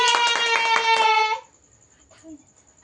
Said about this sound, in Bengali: হাততালি বাজাও।